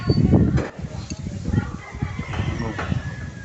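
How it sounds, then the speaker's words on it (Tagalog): Chickens cluck and a rooster crows faintly in the background while a person talks close by over outdoor noise. "Yan, pa yung mga manok."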